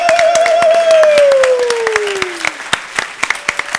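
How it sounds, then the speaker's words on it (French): Audience applause greeting the JFrog guests invited onto a tech conference stage, a dense burst of clapping under a sustained sliding tone that thins into scattered individual claps toward the end. "on va leur faire un gros tonnerre d'applaudissements"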